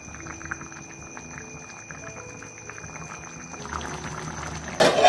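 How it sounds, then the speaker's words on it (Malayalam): Raw mango chutney with masala and water simmering in a pan, a faint steady bubbling with small pops, ending in a brief louder clatter. "നന്നായി തിളച്ച് തുടങ്ങി."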